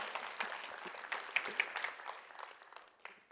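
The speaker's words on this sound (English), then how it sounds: "Yeah, you can clap." Audience applause during a tech conference keynote, a steady patter of many hands clapping at moderate distance, swelling slightly in the middle and then thinning toward the end, with no talk over it.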